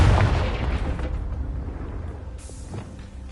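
A Confringo fire spell detonates in a Harry Potter video game with a heavy, booming burst that fades slowly into a low rumble, followed by a faint crackle.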